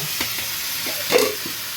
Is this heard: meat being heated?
yes